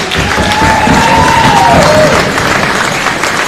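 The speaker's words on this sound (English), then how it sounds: "Give yourselves one more round of applause" Crowd at a girls' 2A high school volleyball championship clapping and cheering in the gym, a sustained loud wash of applause with a whistle-like tone sliding through the middle.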